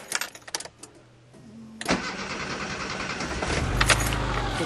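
A car engine after a citric acid cooling-system flush cranks briefly, then catches and settles into a steady idle, preceded by a few clicks and a faint hum; no talking.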